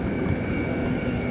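A 2004 Rinker 270 day cruiser with a 350 engine and Bravo 3 drive runs under way on the Chesapeake. It gives a loud, steady, close engine drone with rushing wind and water, and no speech.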